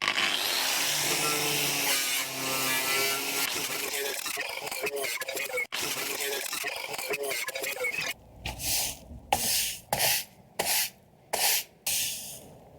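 Rust is ground off the sill of a Ford Transit van being converted into a camper. A harsh, continuous grinding roar runs for several seconds, then breaks into a series of short, loud bursts with pauses between.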